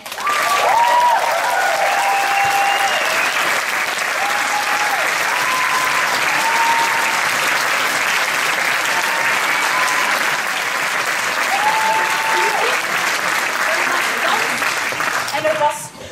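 Sustained audience applause for the dance team at the finale of an amateur Addams Family stage production, loud and continuous throughout, with a voice briefly calling out over the clapping.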